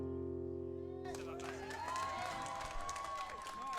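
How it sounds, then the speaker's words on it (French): Studio audience applauding and cheering after a sung performance on a French TV variety show, a dense burst of clapping that swells in right after the last held notes fade out. "bravo, les applaudissements du public"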